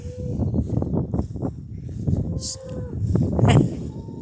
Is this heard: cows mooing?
yes